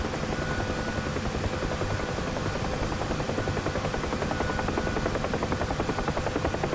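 A helicopter in a flight simulator video game, with its rotor and engine making a loud, steady droning whir that runs unbroken throughout.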